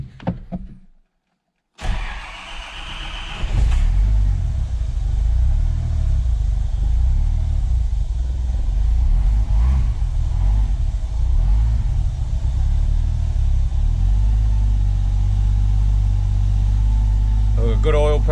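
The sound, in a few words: Toyota TB42 turbo engine starting and running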